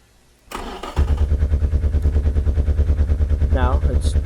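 A turbocharged car engine with straight-through piping and no muffler cranks, catches with a sharp burst, then settles into a loud, steady, throbbing idle heard up close.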